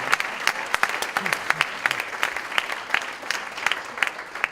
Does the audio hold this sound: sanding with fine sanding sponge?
no